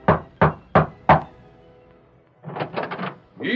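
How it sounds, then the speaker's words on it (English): Four evenly spaced hard raps on a ranch house door in a 1939 Lone Ranger radio drama, crisp and close, followed after a short pause by shuffling footsteps and the start of a voice. "Tom Byerly rapped at the door of Mark Paulson's ranch house, then..."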